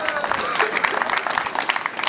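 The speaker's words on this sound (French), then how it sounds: "on peut l'applaudir" Brief audience applause at a French comedy show, a short wash of clapping from a crowd with a few sharper claps standing out.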